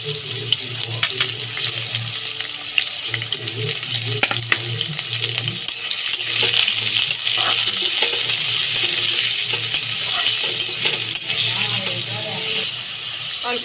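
Carrots and beans stir-fried with salt in a pan for sabudana pulao: a loud, continuous sizzle close by, with scattered spatula scrapes and taps running under it for the whole stretch.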